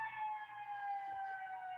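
Ambulance siren passing outside on a Chicago street, a faint, steady wailing tone drifting slowly lower in pitch as it moves by, distant and heard alone.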